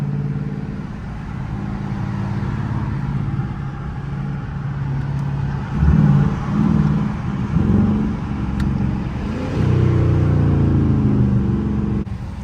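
Deep, rumbling exhaust of a Dodge Charger RT idling loudly, then surging twice in throaty revs that swell and fall back to a heavy burble.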